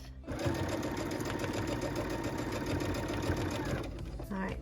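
A sewing machine runs steadily at close range, stitching a tablet sleeve in a fast even hum, then stops briefly with a small clatter near the end.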